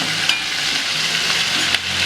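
Mango, tomato and green chilli sautéing in a hot pan for a mochai kara kuzhambu, giving a steady, dense sizzle with a few faint clinks of stirring, close and alone.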